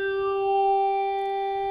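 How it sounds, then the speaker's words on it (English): Trumpet tone filtered through a French vowel formant filter, one sustained steady note with rich stacked harmonics and a faint shift in color, close and alone for under two seconds. "Then I took the trumpet sound and passed it through a formantic filter of"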